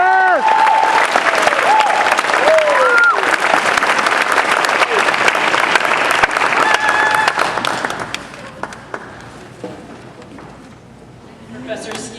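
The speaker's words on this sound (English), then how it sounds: "let's give a hand of applause as Brooke comes up to speak" Loud crowd applause at a nursing pinning ceremony as a speaker comes up, with cheers and whoops over dense clapping that thins out after several seconds into scattered claps and room noise.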